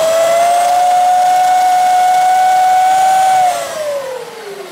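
The 12-volt motors of a Ryobi 36-volt ride-on powerwheel run at full throttle with a loud, steady, high whine that holds, then drops in pitch and fades as the motors slow.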